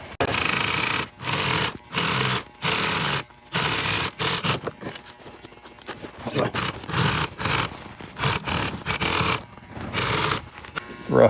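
A sewing machine top stitches upholstery for pontoon boat seats. It runs in several short, loud bursts separated by pauses, then gives way to quieter rustling and handling of material.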